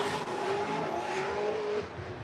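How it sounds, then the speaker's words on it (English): A United States Air Force BMW drift car slides through the outside zone, its engine roaring near and loud and its tires squealing in a long, steady howl. "Brandon Sorenson, United States Air Force BMW out front, throws it in, and now into the outside zone"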